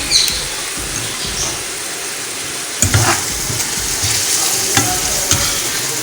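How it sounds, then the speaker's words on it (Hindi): Chilies frying in a pan for lobia keema, a steady crackling sizzle with stirring scrapes and a few sharper spatters, close and fairly loud throughout. "मेरी मिर्चें जो हैं हल्की सी फ्राई हो गई हैं।"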